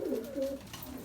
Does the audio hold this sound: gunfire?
no